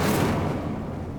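The Incendio fire spell is cast in Hogwarts Legacy as a loud, dense rushing burst that fades slightly over about a second.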